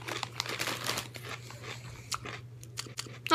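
Doritos Jacked Spicy Street Taco chips crunched and chewed up close, a run of dense crinkly bites and mastication over a steady low hum, with no talk during the chewing.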